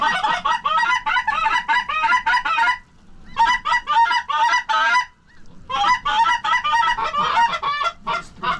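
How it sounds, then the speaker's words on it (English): A flock of Canada geese honks loudly and continuously during a snowy field hunt, dense overlapping calls in three long bursts separated by brief pauses. "Nope, nope. Canada's."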